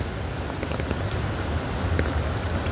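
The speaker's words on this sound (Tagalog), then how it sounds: "Umuulan." Steady rain falls, a dense close patter of drops hitting surfaces with occasional sharper individual splashes, continuous and moderately loud with no voices.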